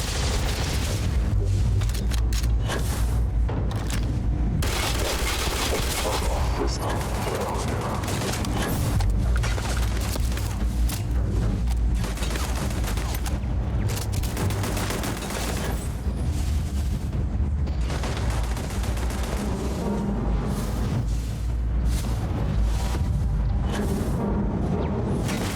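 Sustained gunfire and booming explosions in the video game Starfield, dense rapid shots layered over a continuous heavy rumble, loud throughout for the full stretch with little talk.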